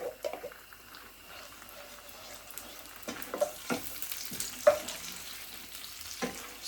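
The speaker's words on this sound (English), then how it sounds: "Now I'm going to add some tomatoes to it." Onion, ginger, red chilies and cumin seeds fry quietly in a pan as tomatoes are tipped in for a pumpkin and black lentil curry, giving a soft sizzle with scattered knocks and scrapes of stirring, faint and close.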